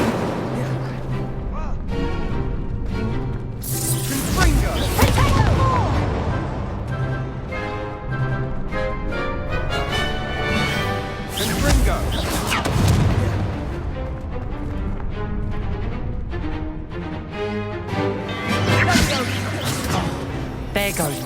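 Incendio fire spell casts and blasts in the Hogwarts Legacy video game, loud repeated booming bursts and crackling impacts through a busy combat scene with game voices.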